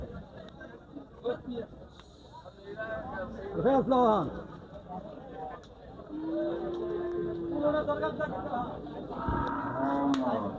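Cattle moo repeatedly at a busy sacrificial cow market for Qurbani in Mirshanni, Cumilla, with several drawn-out, fairly loud calls mixed with people talking nearby.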